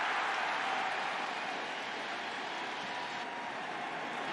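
A baseball stadium crowd at a 2023 ALCS Game 5 roars and applauds in a steady, dense wash of cheering that holds evenly throughout, distant and broad with no clear voices on top.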